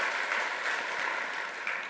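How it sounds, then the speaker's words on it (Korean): Church congregation applauding to welcome newly registered members during a Sunday worship service, a steady, dense wash of clapping from many hands throughout, with no talk over it. "여러분 박수로 환영해 주시기 바랍니다."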